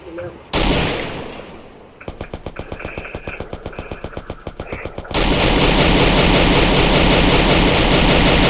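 Automatic gunfire in the Garena Free Fire battle royale game rattles in a rapid, even burst lasting about three seconds, followed by a loud, dense roar, with a burst of noise before it.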